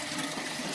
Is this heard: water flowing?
yes